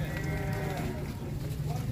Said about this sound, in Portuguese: aquele roxinho já é um boi grande ali